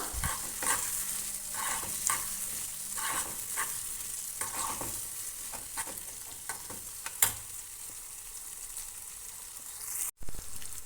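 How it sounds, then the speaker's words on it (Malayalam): Spoon stirring beef pickle in a pan, steady scraping and clinking strokes over a soft oil sizzle, close and moderately quiet with no talking. "ഇനി ഇതെല്ലാം കൂടെ നന്നായി ഒന്ന് മിക്സ് ചെയ്യുക."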